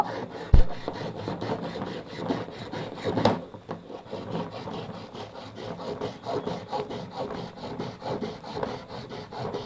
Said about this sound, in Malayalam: നമ്മൾ എന്താ ഈ ഭാഗം വെച്ചിട്ടൊന്ന് കട്ട് ചെയ്തെടുക്കാം